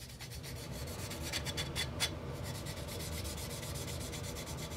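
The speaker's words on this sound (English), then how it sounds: "we're just going to go over the entire body and scuff the surface" Sandpaper scuffs across a plastic body shell for a Tamiya 1:24 Nissan Silvia model kit before painting, a steady, close, soft rubbing hiss in quick repeated back-and-forth strokes with no talking.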